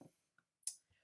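Computer keyboard keys clicking in a few brief, sparse taps, one sharper and louder than the rest, with quiet gaps between them.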